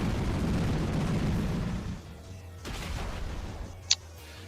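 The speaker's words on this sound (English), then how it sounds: "Hello and behold, there's the Explosion." The Explosion move in a Pokémon game goes off as a dense, rumbling blast that fades into a lower synthetic boom, ending with a brief sharp chime.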